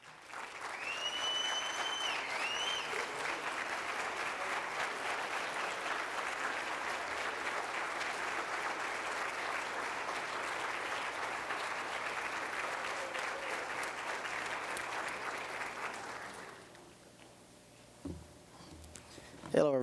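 Sustained applause from a crowd at a high school hall of fame award ceremony, a dense steady clatter of clapping lasting many seconds before fading out, with a few scattered sounds after.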